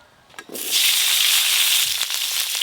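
Quartered green tomato pieces hit hot oil in a pan and burst into a loud, close, steady sizzle that holds after a brief clatter at the start.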